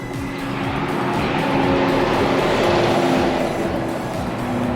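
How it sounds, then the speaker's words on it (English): A vehicle, apparently a semi-truck, roars past on a road nearby, a loud sustained rush of engine and tire noise that swells in the middle and eases slightly toward the end, with no voices. "Did you guys see that semi-truck?"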